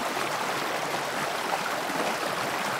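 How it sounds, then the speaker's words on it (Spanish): Constant rushing roar of falling water, loud and even throughout, with no voices. "a Ana la aturdió el sonido de una cascada"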